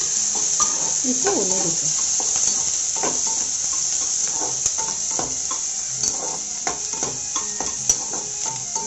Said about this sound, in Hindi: ये देखिए प्याज कटा हुआ लिया है मैंने, इसमें दो तीन हरी मिर्ची डाल लेते हैं